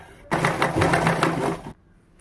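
A sewing machine stitches blouse fabric in one steady burst of about a second and a half, close and fairly loud, with a rhythmic mechanical patter before it stops.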